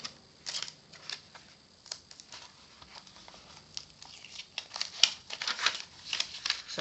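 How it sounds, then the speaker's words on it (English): Pages are torn one after another from a diary booklet, giving quick papery rips and crinkles in an irregular patter, close and fairly soft. "I'm continuing to rip out the diary booklet papers"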